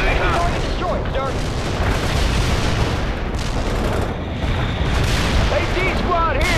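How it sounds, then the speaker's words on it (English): Mortar shells exploding in the real-time strategy game World in Conflict, a dense barrage of booming blasts and gunfire rolling continuously under steady battlefield noise, with voices over it. "Mortar strike inbound."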